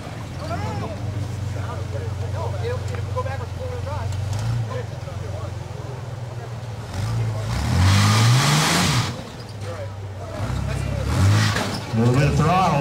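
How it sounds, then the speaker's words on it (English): An off-road rig stuck on a dirt course has its engine revved with bursts of throttle: a steady low idle rises twice into loud, climbing revs and then settles back, while people talk over it. "A little bit of throttle was able to get him unstuck."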